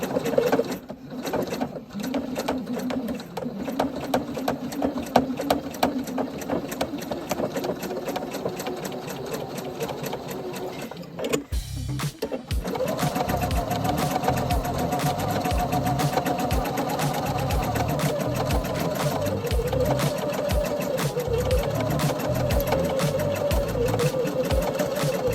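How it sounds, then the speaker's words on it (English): A sewing machine runs in steady, rapid bursts of lock stitching through fabric for book sleeves, loud and close, pausing briefly midway before resuming a continuous mechanical whir. "Lock stitch, needle down, turn the fabric, line it up, stitch, lock stitch"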